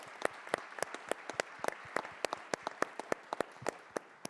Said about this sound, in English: So if we could just give him a round of applause for what he's done.